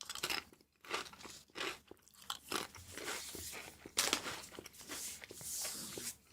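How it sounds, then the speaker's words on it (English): Close, loud crunching and munching on snacks, with steady bites and chewing crackles running throughout, no talking. "I'm giving you a bit of munching noise."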